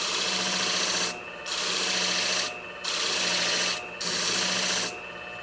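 Long rubbing strokes sharpen the long blade of a 7 inch beauty shear, four sustained grinding passes separated by brief pauses, close and steady.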